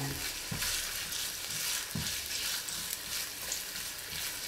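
Garlic frying in olive oil gives a steady bright sizzle throughout, with a couple of soft low knocks from stirring in the pan.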